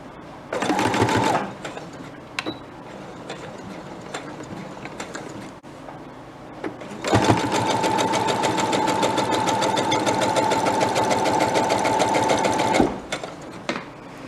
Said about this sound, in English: we'll start here at the top and we're going to sew. Now here, I don't know if you have to, but I do a back stitch.